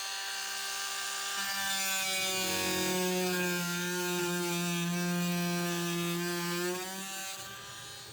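A Milwaukee carbide-tooth blade on a Dremel oscillating multi-tool cutting into material, a loud, steady buzzing drone that rises as the blade bites, holds for several seconds, then eases off near the end.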